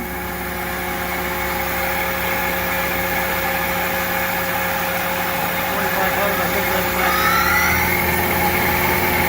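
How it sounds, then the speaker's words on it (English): A Union BFT105 machine spindle runs at 2,000 RPM with a steady, even hum and a faint high whine, continuous and close up at about six inches, without pauses. "I'm about 6 inches from the spindle. Sounds super quiet."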